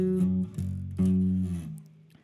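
Bass guitar playing a funky octave line, a few sustained plucked notes that step between pitches in a short phrase, clear and close.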